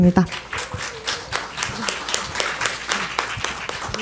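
Audience applause after a student volunteer group's presentation on developing countries: a sparse, uneven patter of individual claps, moderately near, with voices mixed in underneath.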